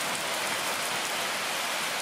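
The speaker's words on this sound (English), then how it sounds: "it's starting to rain over here now" Steady rain pours down, a dense, even hiss of drops falling on surfaces, continuous and fairly close with no voices.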